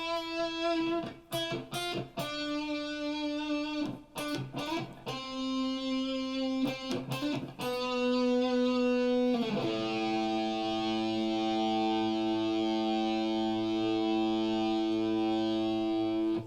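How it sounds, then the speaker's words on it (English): Lead tone from an Epiphone Les Paul with ProBucker pickups through an HX Stomp: distorted single notes and bends with heavy echo and long sustain, ending on a loud held note ringing out for several seconds, played alone. "This is an Epiphone Les Paul with ProBucker pickups,"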